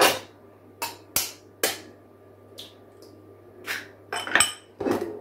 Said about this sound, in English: then I will beat my egg, 4 of them